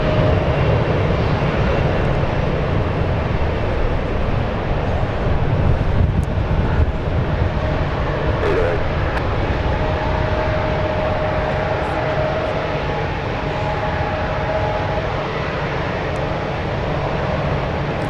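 Airliner engines at San Francisco International Airport as a Canadian jet lines up on runway 1 right, a steady distant jet roar and whine filling the air without any talk.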